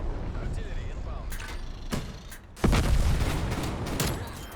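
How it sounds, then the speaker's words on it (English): Artillery strike explosions in Call of Duty: Black Ops Cold War multiplayer, several sharp booming impacts landing in quick succession, with a heavy loud blast midway, over game noise. "Artillery inbound."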